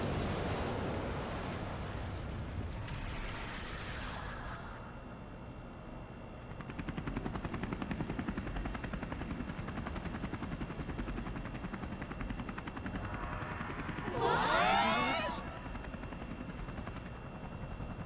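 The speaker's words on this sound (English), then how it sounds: "A helicopter." A helicopter in the game Persona 5 Royal flies with a steady, loud rotor roar and wind-like rushing, swelling midway and peaking briefly near the end, with no voices.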